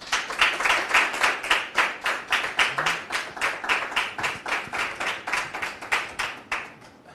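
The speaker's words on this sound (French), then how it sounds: "Public, merci de recevoir sous vos applaudissements notre troisième invité" A television talk-show audience claps steadily in unison, a loud, regular beat of many hands at about three claps per second with no voices.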